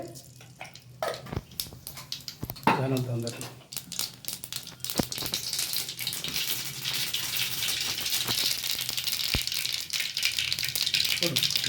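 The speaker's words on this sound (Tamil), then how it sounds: "எண்ணெய் காஞ்சதும் கொஞ்சம் கடுகு" Mustard seeds splutter and crackle in hot oil while cooking a drumstick flower (moringa) stir-fry, a dense, steady popping that builds and stays close after a brief voice early on.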